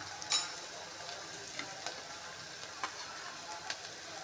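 Chopped onions fry in a pan for a meal maker curry, a steady close hiss of oil with scattered clicks and scrapes from stirring, one sharper knock near the start, quiet and without speech.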